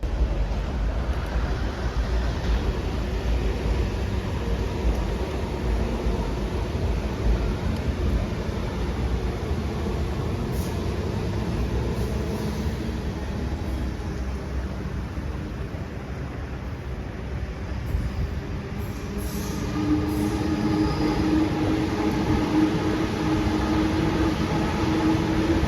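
An eight-coach Sydney Tangara electric passenger train rolls past at Eastwood station, making a long steady rumble of wheels and motors that swells again near the end, with high electrical whine above it.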